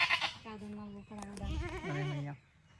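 A goat bleats at a village home in Gujarat, a few wavering, drawn-out cries close by with short gaps between them, and a voice can be heard nearby.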